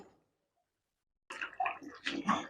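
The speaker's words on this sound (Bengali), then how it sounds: "এই একটু জল দিয়ে দিলাম বাটিটা ধুয়ে" After a near-silent pause, water splashes and swishes into a bowl as it is rinsed, a short, faint, close burst of sloshing.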